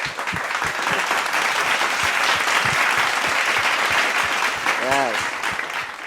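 An audience applauds steadily for a magician's act, with dense clapping that stays loud throughout and a faint voice calling out near the end.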